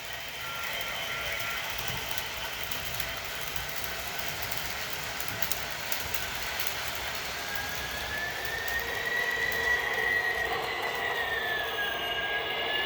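An MTH SD70ACe HO scale model diesel locomotive in Kansas City Southern livery runs under DCC sound, giving a continuous bright mechanical whir with a thin rising squeal near the end, moderately quiet and with no voices.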